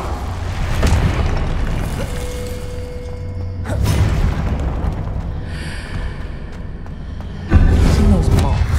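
Explosive Confringo spell blasts in the Hogwarts Legacy video game, booming bursts near 0 s, at about 3.8 s and loudly at about 7.5 s, over a steady rumbling game soundtrack.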